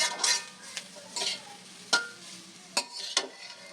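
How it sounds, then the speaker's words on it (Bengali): Food sizzles in a pan as a utensil stirs and scrapes against it in several sharp, irregular strokes, close by with no talking. "এটা আস্তে আস্তে নাড়তে নাড়তে ভাজা হয়ে যাবে"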